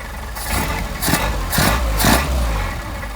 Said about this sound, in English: And then we will blip the throttle, make sure we don't have it too lean.